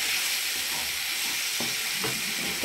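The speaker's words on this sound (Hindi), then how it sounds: "कम से कम 2 मिनट तक हम मसाले को भूने में, क्योंकि इसका कच्चापन निकल जाए" Onion and tomato masala frying in a pan for a cauliflower and potato dish, giving a loud, steady sizzle close up, with a couple of faint scrapes from stirring.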